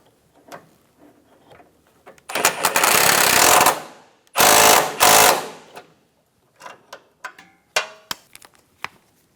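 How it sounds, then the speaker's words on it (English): Bolt on a 2013-2017 Honda Accord AC condenser bracket being run down with a power tool, heard as two loud close whirring bursts of a couple of seconds each, followed by a few short clicks and knocks. "I used a pair of pliers on the back of the bracket just to hold it nice and square while I tighten the bolt down"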